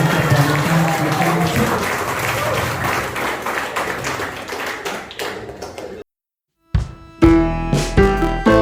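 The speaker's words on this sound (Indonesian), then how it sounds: "Tepuk tangan dong untuk Amwari." An audience at a large seminar applauds in a dense wash of clapping for about six seconds. The applause cuts to silence, then brief tonal hits follow.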